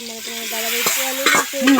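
Chicken pieces cooking in hot oil in a home kitchen, a continuous close sizzle with a few stirring clatters and a faint tonal hum underneath.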